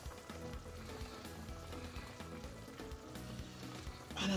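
Onions and turkey wings cooking in a pot with beef seasoning, a quiet steady sizzle and faint bubbling close by, continuous throughout with no voices.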